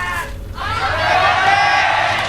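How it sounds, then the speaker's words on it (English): Fans cheering at a StarCraft II GSL tournament, a dense crowd roar with shouting and whooping that swells and holds loud throughout, voices mixed in. "There's some fans cheering for OGS Zenio."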